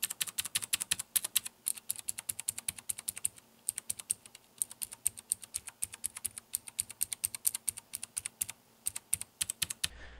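Rapid typing on a Cherry MX mechanical keyboard fitted with red rubber O-rings: dense, steady runs of crisp clicky keystrokes with a few short pauses, close and moderately loud, no voices.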